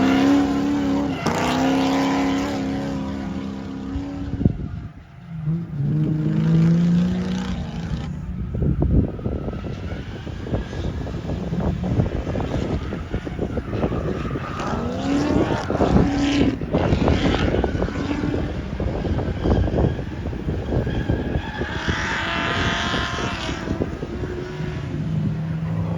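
Cars driving laps at a grassroots motorsport track event, engines revving and rising in pitch as they pass, loud and continuous with shifting tones and wind buffeting over the microphone.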